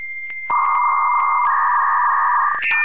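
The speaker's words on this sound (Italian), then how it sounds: "è stato il fortunato possessore di un modem a 56K non potrà mai dimenticare il peculiare suono che questo emetteva di continuo" A 56K dial-up modem sounds its connection handshake: a steady high tone joined by a louder lower tone, a brief shift in pitch, then a sudden burst of chirping data noise at the end, with no voices.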